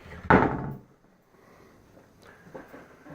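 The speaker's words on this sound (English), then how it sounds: "So the bifold doors worked." Bifold doors in a house are worked by hand, giving one sharp knock of the panels folding or closing, then a faint rustle and a softer knock shortly after.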